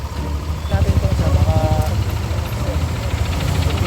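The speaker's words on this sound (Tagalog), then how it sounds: "yun yung tunog ng makina po kanina." A Yamaha Aerox V2 scooter engine with a knocking fault runs with a rapid, rhythmic low throb and faint ticking, close and fairly loud, with a voice speaking briefly over it.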